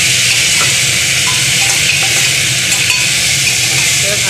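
Vegetables with a green chili sizzle steadily in a frying pan for a winter vegetable soup, a dense, even hiss with faint stirring clicks and no voices.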